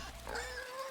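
A pig in a video game lets out a short, faint grunting oink with a wavering tone, brief and quiet against a low background hum.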